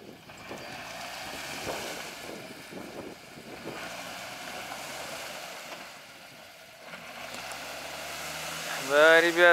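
A UAZ Patriot with a manual gearbox revs hard while towing a stuck Land Cruiser. A loud, steady engine drone continues under people talking, then climbs sharply in pitch near the end.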